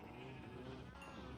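Sheep bleating in Minecraft's farm, a steady low murmur of several overlapping bleats at moderate volume, with no talking over them.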